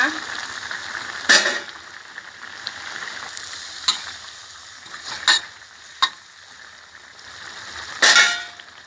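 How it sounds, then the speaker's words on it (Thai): Betel leaves go into a simmering catfish red curry, giving soft stirring and sizzling scrapes with a few sharper clanks of a utensil against the pot, spaced apart over a low steady background. "ใบชะพูลงเลยค่ะหนึ่งขีดใส่ลงไปเลยนะคะ"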